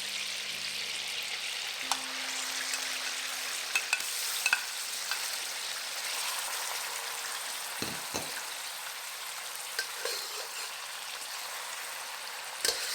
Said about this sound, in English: Now add in the pork.